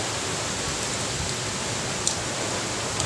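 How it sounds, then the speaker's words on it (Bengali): Heavy rain from a thunderstorm falling outside, a dense, steady hiss of downpour with a couple of faint sharp ticks, close and uninterrupted. "বাইরে এখন প্রচুর ঝড় বৃষ্টি শুরু হয়ে গেছে"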